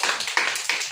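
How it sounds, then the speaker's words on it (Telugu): Preschool children at an anganwadi clapping together, a quick run of sharp, uneven claps over about a second, fairly close and loud. "అందరూ క్లాప్స్ కొట్టండి ఒకసారి"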